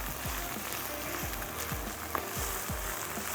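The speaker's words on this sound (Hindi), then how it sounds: "तो थोड़ा सा हम पहले लौकी को भून लेते हैं।" Bottle gourd (lauki) pieces fry in a pan, giving a steady close sizzle with soft, regular low thumps underneath.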